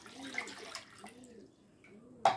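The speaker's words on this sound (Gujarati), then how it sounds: "પાણી નાખું છું." Water pours into a small bowl to start a fennel sherbet, a brief, soft splashing trickle at close range that ends in a sharper splash, with no talking.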